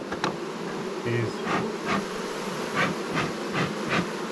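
Honey bees buzz steadily around an open Langstroth hive, a dense continuous drone close by with individual bees swelling louder as they pass, while a voice speaks briefly.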